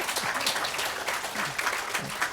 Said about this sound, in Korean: 이러면 박수 해야 되는데